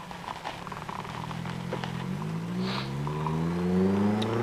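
A race car pulls slowly down the pit lane of the Las Vegas road course, its engine note rising steadily as it accelerates and climbs through a gear. The engine runs loud and close throughout, with no one talking.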